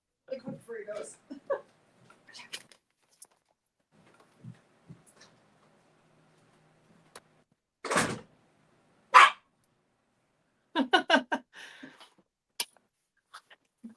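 Dogs in a home give a few scattered barks, with a couple of sharp louder ones standing out between quiet stretches and bursts of nearby talking.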